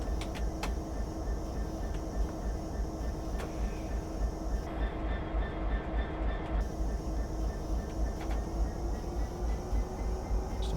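In Train Simulator 2015, a Class 66 DRS diesel locomotive gathers speed in a rail yard, its engine droning steadily and loudly with rhythmic wheel clatter and occasional sharp clicks over the rails.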